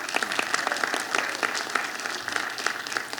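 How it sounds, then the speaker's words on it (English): An audience at a sports summit in Cleveland breaks into brief, steady applause, a dense patter of many hands clapping at moderate volume from start to finish. "let's give a round of applause"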